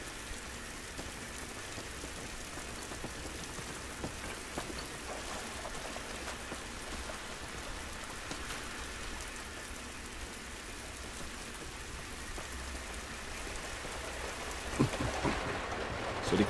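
Steady rain in the video game The Last of Us, a continuous patter of drops on surfaces with a low rumble beneath, swelling slightly toward the end, with no talk.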